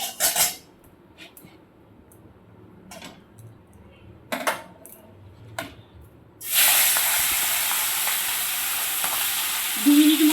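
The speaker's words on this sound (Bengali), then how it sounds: "চিংড়ি মাছগুলো দিয়ে ভেজে নিই" Prawns dropped into hot oil in a wok for frying, with scattered clinks and scrapes at first, then a sudden loud, steady sizzle that takes over close up and keeps going.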